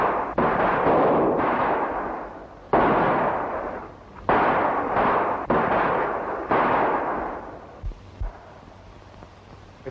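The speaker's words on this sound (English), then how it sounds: "Quit shooting." Gunfire in a western shootout: a volley of loud, sustained gunshot bursts with echoing decay, several separate rounds in succession, then a few sharper isolated shots near the end.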